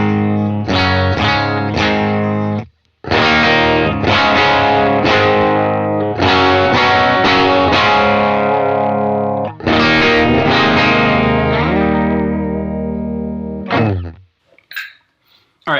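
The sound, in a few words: electric guitar clean tone through UA Dream 65 amp pedal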